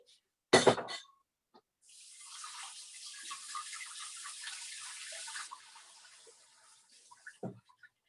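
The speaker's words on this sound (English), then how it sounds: "So basically you just need to rinse it in cold water." Cold tap water runs for a few seconds as butter is rinsed in it, a steady splashing flow following a sharp clatter, with a few small knocks afterward.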